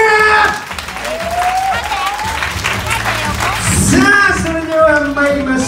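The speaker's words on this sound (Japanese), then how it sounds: "大きな拍手" An audience claps at a live event as judges are introduced, the applause running steadily beneath a loud, animated announcer's voice and music that rise and fall over it.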